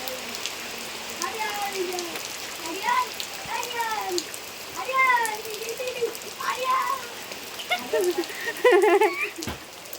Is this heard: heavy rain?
yes